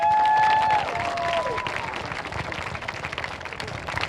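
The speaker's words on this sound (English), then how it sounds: "So let's give them a quick round of applause." Audience applause at a high school marching band friends and family preview show, a steady wash of clapping and crowd noise filling the space, with a few brief tones over the opening seconds.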